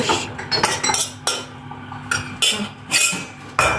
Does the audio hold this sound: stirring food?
yes